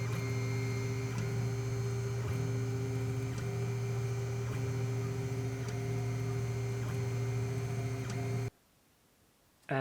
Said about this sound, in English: after the calibration, it will start printing our test grid